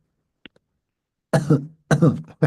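Two harsh, close coughs in quick succession after a faint click, with silence between them.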